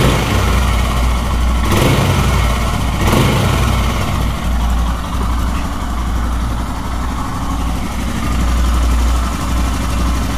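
A Royal Enfield Himalayan motorcycle engine idles steadily and loudly up close, a constant low rumble with a couple of brief knocks early on.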